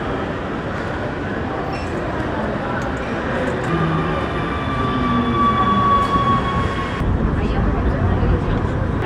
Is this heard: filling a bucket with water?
no